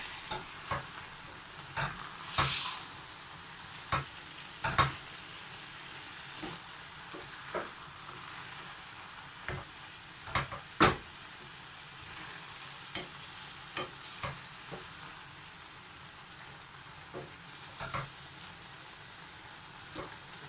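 A spoon scrapes and stirs through thick pumpkin puree in a pot over a steady low bubbling sizzle, with scattered clinks against the sides.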